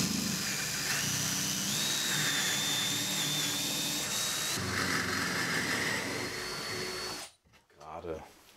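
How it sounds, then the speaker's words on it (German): Power drill boring holes into wood while building a home coffee bar, a continuous whining motor drone with rising pitch, close and loud for about seven seconds, then stopping abruptly. "Jetzt bohren wir hier"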